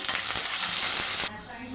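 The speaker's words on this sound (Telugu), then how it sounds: "కొంచెం జీలకర్ర కొంచెం కరివేపాకు ఒక ఎండు మిరపకాయ ఇవన్నీ బాగా వేగాలండి తాలింపు వేగాలి" Loud, steady hiss and crackle of cumin, curry leaves and a dried red chilli sizzling in hot oil for tempering, cutting off abruptly partway through.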